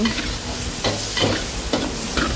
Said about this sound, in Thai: แล้วก็เติมผงกะหรี่ลงไปค่ะ ผัดให้ผงกะหรี่หอมนะคะ